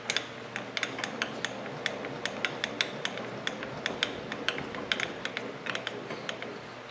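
Head of a milling machine lowered on its column, giving a steady run of light ratchet-like clicks and ticks over a low mechanical rub, fairly quiet and close, with no talking.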